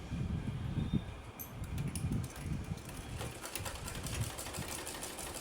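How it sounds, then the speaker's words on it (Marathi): A domestic sewing machine runs a plain straight stitch in steady bursts, its mechanical whir rising and easing in a rhythmic pattern, close and alone with no voices. "आता ह्याच्यामध्ये तुम्हाला मी शिलाई दाखवणार आहे आता ही एकदम साधी शिलाई आहे"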